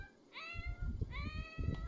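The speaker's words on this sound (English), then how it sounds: "Oh, we got kitty cats crying." Two short, high cat meows from The Sims 4 video game, one early and one late, faint and thin over a soft low rumble of game background sound.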